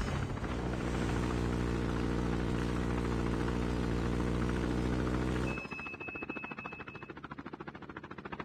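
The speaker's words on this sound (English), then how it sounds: "Deployed chopper gunner." Chopper gunner helicopter in Call of Duty Mobile, a loud steady droning rotor and engine hum that cuts off abruptly partway through, leaving a fainter rhythmic whir.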